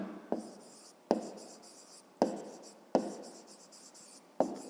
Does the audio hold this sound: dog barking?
no